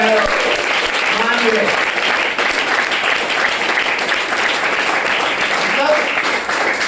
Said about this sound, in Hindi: जोरदार शानदार ताली आप लोग के लिए होनी चाहिए।